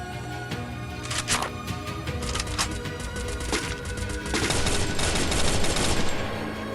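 FAMAS rifle fire in a Free Fire match: sharp automatic bursts crackle in quick clusters, then swell into a denser, louder stretch of continuous shooting near the end, with no talk.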